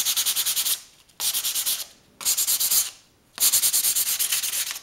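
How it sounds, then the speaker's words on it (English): Light hand sanding with 220-grit sandpaper on a model rocket surface, heard as close, steady scratchy rubbing in four bursts of rapid back-and-forth strokes separated by brief pauses, with no talking. "you can see very light sanding"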